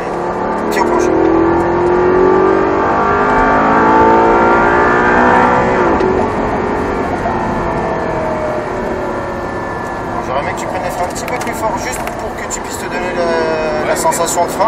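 An Audi R8 accelerates at full throttle on a track, the engine climbing loudly in rising revving sweeps with gear changes, heard from inside the car while people talk over it.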